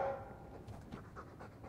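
Rapid, rhythmic dog panting from a pet dog in the Dragon Age 2 video game, soft and steady across the whole moment with faint game ambience beneath and no talking.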